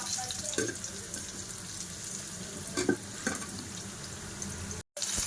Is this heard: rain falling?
no